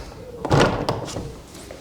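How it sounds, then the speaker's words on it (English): A door shut in a workshop, a short solid thunk with a brief rattle after, fairly close and moderately loud, with no talking over it. "let me just shut this door."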